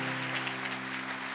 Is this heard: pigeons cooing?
no